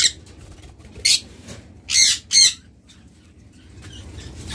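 A pair of green opaline budgerigars gives a few short bursts of sharp chirps and squawks with brief wing flutters, separated by quiet gaps over low background hum.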